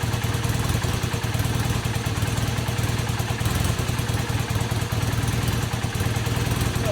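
A Honda CB250N SuperDream motorcycle engine runs at a steady idle after a rebuild, with a loud, close, even mechanical throb and a clattering texture, and no talking.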